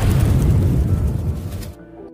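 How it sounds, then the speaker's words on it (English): A bomb explodes in a film about the Nakba in Palestine: a loud, deep, rumbling blast that holds strong for over a second, then decays and cuts off sharply into silence. "suddenly a bomb exploded."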